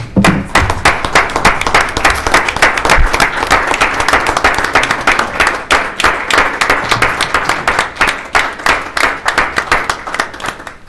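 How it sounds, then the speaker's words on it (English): A room of attendees at a county fiscal court meeting gives a long, loud, steady round of applause for a departing colleague, dense clapping continuing without a break throughout. "I think David deserves a big round of applause"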